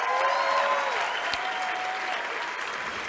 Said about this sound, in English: Should we have another round of applause?